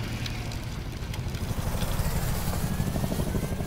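Three helicopters spearhead a ground attack, their rotors producing a steady, heavy low-pitched thumping drone that swells slightly and stays loud throughout, with no voices over it.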